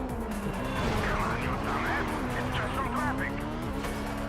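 Race car engine droning steadily through a corner in Midnight Club II on PS2, with faint tire squeal and a voice talking over the game sound throughout.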